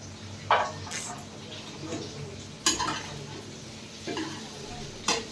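Sabudana khichdi being stirred in a pan, a soft sizzle underneath a few distinct scraping and clinking spatula strokes spaced a second or two apart, close and moderately quiet.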